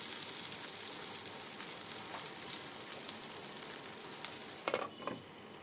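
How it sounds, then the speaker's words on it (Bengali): Small semolina and yogurt snacks frying in oil in a pan, a dense, steady sizzle close by with a few brief clatters near the end and no talking. "এইরকমভাবে একটা একটা একটা করে ভেজে নিলাম"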